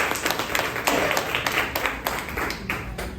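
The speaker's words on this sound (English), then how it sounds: "So big round of applause for your own self." Audience at a spiritual gathering with a guru in New York claps steadily for about three seconds, a dense patter of hands with some distinct individual claps, moderately loud and close, no talking over it.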